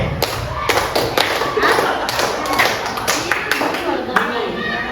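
A classroom of students claps in rhythm during a call-and-response clap routine, sharp repeated claps and thuds in quick patterned bursts, with the teacher's voice chanting over them.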